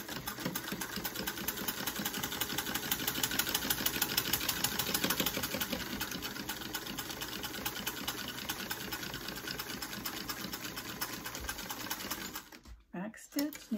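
A vintage Singer sewing machine stitches steadily, a fast, even mechanical chatter that runs continuously for most of the time before stopping abruptly near the end.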